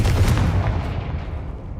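Confringo blasting spell in Hogwarts Legacy going off as a sharp gunshot-like blast at the start, trailing into rumbling low noise that slowly fades.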